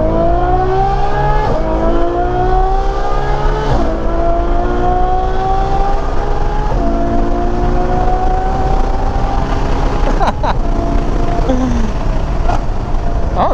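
Ducati Panigale V4R motorcycle accelerating hard, its engine note climbing in pitch and then dropping sharply at each quick auto gear shift, repeated several times, loud and close with no talking.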